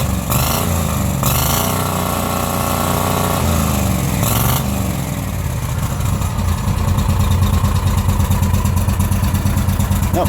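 The engine of an Argo Avenger 8x8 amphibious ATV revs loudly and close up. A steady idle rises through several throttle blips and surges, then holds a rougher, higher roar toward the end.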